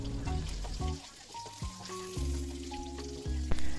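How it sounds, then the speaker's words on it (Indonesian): Tofu and pieces of round eggplant fry in hot oil, a continuous crackling sizzle with tonal kitchen hums and a few knocks layered over it, fairly close. "Itu aku sambil goreng tahu dan ada sedikit terong bulat ya teman-teman."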